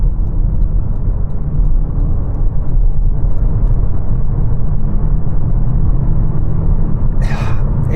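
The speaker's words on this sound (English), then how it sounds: "You do get a little bit of a droning sound from the engine because of the CVT automatic gearbox" Toyota C-HR small SUV engine under full throttle, a steady low droning roar from the CVT automatic gearbox holding constant pitch, loud and continuous with no talk.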